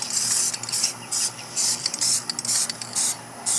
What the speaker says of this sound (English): So just a tap of the spray going across.